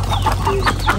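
Chickens cluck in a village farmyard, short close calls repeating across a steady low hum, with a few higher squawks mixed in.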